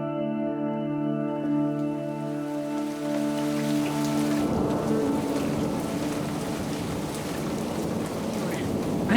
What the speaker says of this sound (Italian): Ha iniziato a piovere